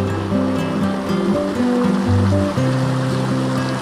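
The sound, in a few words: river stream flowing in a hidden jungle river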